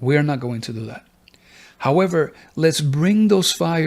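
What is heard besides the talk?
No everyday noise stands out behind the speech.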